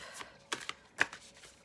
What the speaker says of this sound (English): I'm going to just shuffle these on my lap